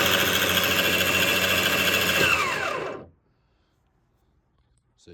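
Electric shrimp pot puller motor aboard a 27-foot Seasport Navigator boat, running with a steady whirring mechanical drone for about three seconds before winding down and cutting off into near silence.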